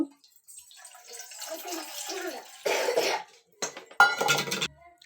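Water from a packet-soup preparation is poured into a cooking pot in a home kitchen, giving a few short splashing bursts with a cough-like sound between them.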